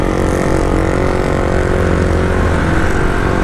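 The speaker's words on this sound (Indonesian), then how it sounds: "Knalpotnya brong." A motorcycle with a loud open exhaust idles and burbles in heavy street traffic, a close, rough, continuous engine rumble that fills the whole moment.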